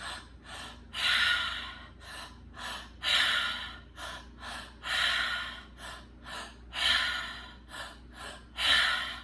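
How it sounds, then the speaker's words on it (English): Breath of fire breathwork exercise: a person takes a series of forceful, rhythmic breaths at close range, about eight loud puffing exhalations alternating with short quiet pauses. "That is the breath of fire."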